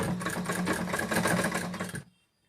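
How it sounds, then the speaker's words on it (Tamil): A sewing machine runs steadily while stitching the side seam of a blouse, a loud, fast mechanical rattle that continues for about two seconds, then stops abruptly into near silence. "இப்போ இந்த சைட் ஸ்டிச் பண்ணிட்டு காட்டுறேன்."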